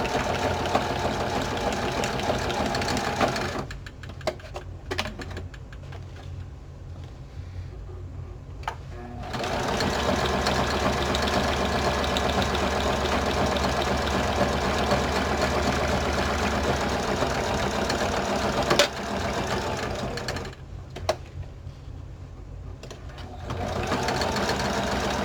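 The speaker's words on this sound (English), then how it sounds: "I'm just going to stitch it on with the sewing machine." A sewing machine zigzag-stitches through paper for a handmade book cover box, its fast whirring run coming in long bursts that stop for several seconds and then resume.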